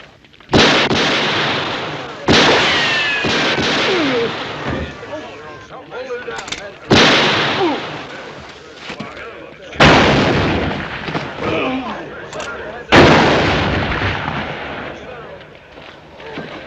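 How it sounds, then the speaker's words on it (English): Gunfire in a Western shootout scene: five loud, sharp shots spaced a few seconds apart, each with a long echoing decay, and faint background noise between them. "That's enough shooting."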